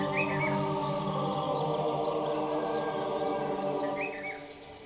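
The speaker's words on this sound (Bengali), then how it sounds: "সকালবেলা এখানে শুধুই পাখির ডাক আর ঝিঝি পোকার ডাক" Morning birdsong and chirping crickets in a hill village among pine forest near Kalimpong, a continuous layered insect drone with a few short bird chirps over it, steady and moderately near.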